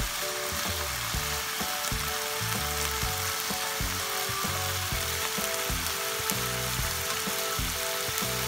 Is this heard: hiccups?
no